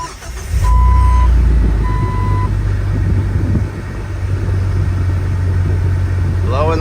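A Jeep Wrangler's repaired blower motor fan runs hard with a steady, loud whooshing roar close by, with a couple of brief electronic chimes early on.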